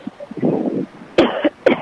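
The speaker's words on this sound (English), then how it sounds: "That's the only time I've cleared my throat all day." A low, rough throat clearing followed by two sharp, short coughs or hacks, close to the microphone, with faint wind noise underneath.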